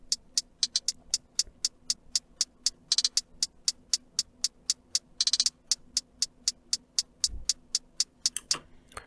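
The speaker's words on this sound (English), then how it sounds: "I layered that with another hi-hat that's going to sound like this by itself" A crisp programmed hi-hat layer in a hip-hop beat plays alone, a steady run of sharp, bright ticks with occasional quick rolls and doubled hits, close and clean over a faint low hum.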